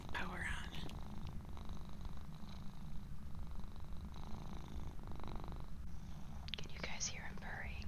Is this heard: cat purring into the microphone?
yes